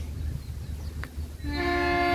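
A train horn blares in partway through, a steady, sustained tone that cuts over quiet outdoor background noise.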